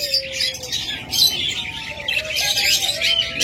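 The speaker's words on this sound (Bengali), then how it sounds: "যারা এরকম হেলিকপ্টার বাজবিগার বা জাপানিজ বাজবিগার খুঁজতেছেন তারা এই পাখিগুলো নিতে পারেন।" Helicopter and Japanese budgerigars kept for sale chirp in a dense, busy chatter of bright, high twitters, continuous and close, with a faint warbling tone running beneath.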